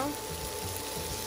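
Asparagus cooking in a hot pan, a constant low sizzle that stays fairly quiet and even throughout, with no clear speech.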